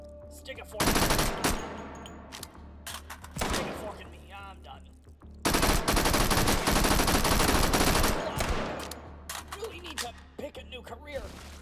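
A Thompson Tommy gun fires in a VR shooter, loud close bursts of rapid automatic fire that come in several strings, the longest lasting about three seconds, with shorter rattles and clinks between them.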